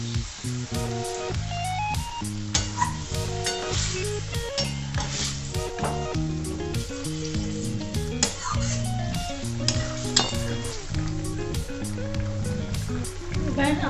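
A spoon scrapes and stirs pointed gourd curry with coconut in a pan after water is added, rhythmic metallic clinks over a soft simmering sizzle, with music playing underneath.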